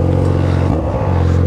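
A Yamaha XJ6 motorcycle engine idles loudly and steadily nearby, with a brief rev or throttle change partway through.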